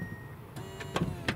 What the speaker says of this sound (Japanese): スライドドアのね、